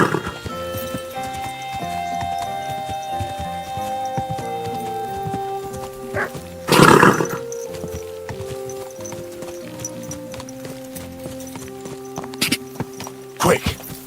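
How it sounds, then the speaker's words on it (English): A horse in the video game Kingdom Come: Deliverance 2 clip-clops at a steady walk under medieval game music, with a loud snort or whinny partway through and another brief snort near the end. "Easy, good horse."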